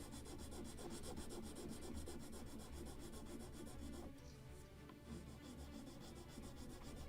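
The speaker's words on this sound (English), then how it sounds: "Final touches always will be with something like file, sanding block, without power tools to make the precise sanding" Hand sanding wood with a file and sanding block on a model of the 1776 gunboat Philadelphia's midship deck, steady rhythmic rasping strokes close up, with a brief softer pause midway.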